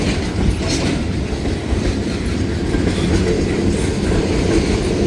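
A freight train passing near a rail yard, a loud, steady rumble of rolling cars with continuous rattling and faint clickety-clack from the wheels, close by and without any horn.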